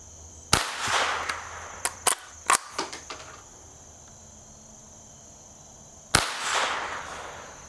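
Rossi Gallery .22 pump rifle firing at a target, two sharp loud cracks several seconds apart, with lighter mechanical clicks of the pump action between them, outdoors with faint insect chirping behind.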